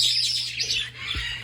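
Young canaries at a bird farm chirp and trill in quick, bright overlapping bursts, fairly close, over a low steady hum.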